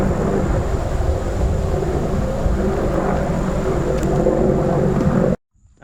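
An E-flite Su-30 RC jet flies overhead, a steady, loud rushing roar of ducted fans and wind that holds for several seconds before cutting off abruptly, with no voices.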